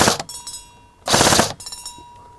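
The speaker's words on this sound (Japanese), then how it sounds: "お、ちゃんとメタルターゲットにチッチ言うじゃないですかこれ。" A Tokyo Marui M4A1 electric airsoft gun fires short bursts at a metal target about 10 meters away, giving two loud, clustered volleys of rapid clacking with faint ringing between them, no voices.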